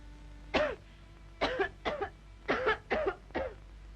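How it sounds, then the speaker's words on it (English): A series of harsh, raspy coughs, about six bursts in quick irregular succession, close and fairly loud over a low steady hum, in a 1934 film scene. "Well, I cough all the time."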